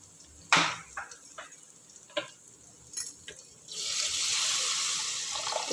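Water poured into a cooking pan while preparing ou khatta, an Odia sweet-sour dish with sugar; a steady pouring wash rises after a few light clinks and taps and continues to the end, close and moderately loud.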